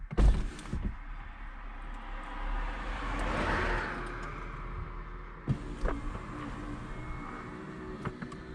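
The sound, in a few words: Porsche convertible roof opening, operated with the key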